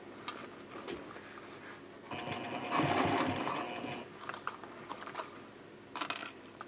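A sewing machine stitches front binding onto a sling in short bursts, with a sustained run of rapid needle clatter in the middle and quieter intermittent clicks of handling around it.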